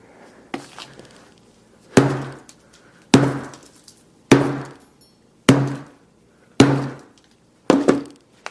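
A hammer strikes a Samsung Galaxy S6 Edge phone seven times in sharp, evenly spaced blows, each a hard glassy thunk that quickly fades, with quiet gaps between strikes.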